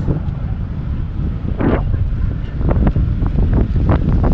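Strong wind buffets the microphone in a steady roar, with splashing waves and water rushing past throughout, on a trip near San Pascual and San Andres.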